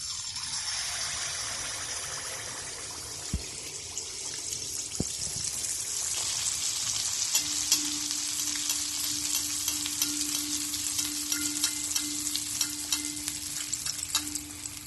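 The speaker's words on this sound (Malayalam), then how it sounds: "ഇനി ഈ മാവിൽ നിന്ന് കുറച്ച് കോരി ചൂടായ എണ്ണയിലേക്ക് ഒഴിച്ച് ചുട്ടെടുക്കാം" Sweet appam batter frying in hot coconut oil, a steady close sizzle and crackle of bubbling oil with occasional soft clicks, continuous and unbroken throughout.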